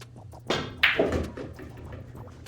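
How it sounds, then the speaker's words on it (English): A cue strikes the cue ball for a stop shot during 10-ball pool practice, giving a close, sharp click followed by a second crack as the balls meet, then a quiet room. "I'm just going to do a stop shot."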